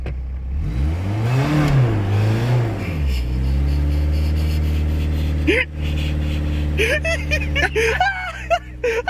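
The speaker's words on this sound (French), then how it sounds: "Ah, j'ai réussi démarrage en côte." A car engine revs during a hill start at a driving lesson. The engine note climbs and swells loudly, settles into a sustained drone, and ends with a few shorter rises.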